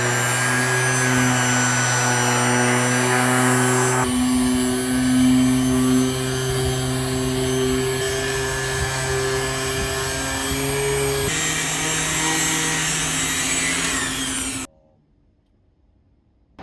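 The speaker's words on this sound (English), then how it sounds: "you're going to start sanding and you're going to keep sanding until it kind of turns into a mud or a paste" A rotary sander works over stainless steel in a steady, loud whine with strong motor harmonics, shifting pitch a few times as pressure changes, then cutting off abruptly near the end, leaving silence.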